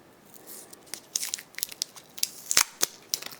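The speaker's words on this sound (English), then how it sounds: "So you're going to remove your tape." Tape peeled and pulled away from a wire-wrapped gemstone cabochon pendant, heard close up as a run of short crinkly tearing and ripping bursts with small sharp crackles.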